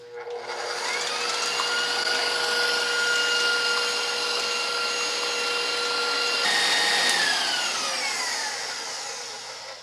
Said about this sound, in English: once the eggs are in your mixer, you are going to beat them until they kind of become like frothy foamy